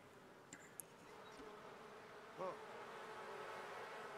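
Bees buzz faintly in The Sims 4, a quiet insect drone with a few brief ticks and chirps over soft game ambience.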